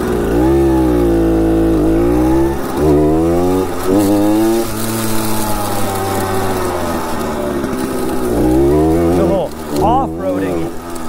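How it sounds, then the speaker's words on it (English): A 1966 Harley Davidson Aermacchi M50S motorcycle starts on the first kick and keeps running, its small single-cylinder engine loud and close with a steady putter and a few blips of throttle. "Gas on. First kick, not bad."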